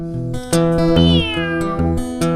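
Meowing cat sounds in a song about a black cat, several loud drawn-out meows in a row, one sliding downward in pitch, heard up close with strong harmonic tones.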